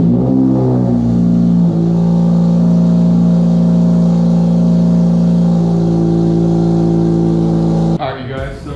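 A Honda Civic Si engine starts and idles, its steady droning hum loud and close for several seconds, then cuts off sharply near the end.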